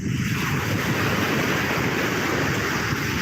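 Sea surf breaks along a rocky coast near a fort and lighthouse, with fishing boats offshore. It makes a continuous, close, loud rushing roar mixed with wind buffeting the microphone, and no voices are heard.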